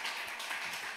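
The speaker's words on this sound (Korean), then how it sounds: "박수" A short burst of applause in a church during an evening worship service, a steady dense patter of clapping from a congregation for about a second.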